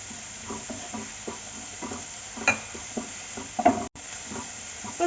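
Onion and garlic sauté in a pan, a soft sizzle broken by repeated scraping stirs, with a few sharper clatters of the utensil against the pan; close and fairly quiet, no talking.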